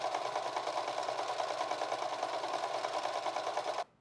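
A sewing machine stitching a wide zigzag for a buttonhole, a close, rapid, even mechanical whirring rattle that runs steadily and then stops abruptly at the end.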